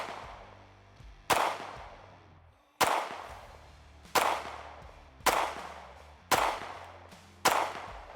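Six sharp gunshots from a Bul Armory Tac Pro 2011 pistol, fired at an uneven, roughly second-plus pace, each a loud crack with a ringing decay at an outdoor range.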